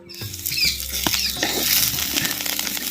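Garlic cloves and green chillies stirred in hot oil for a village-style dry fish gravy, a dense close crackling sizzle with scraping stirs and spatters throughout, no voices.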